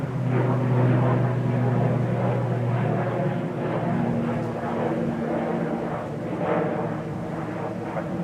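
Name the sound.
ATR 42 turboprop airliner heading to Inverness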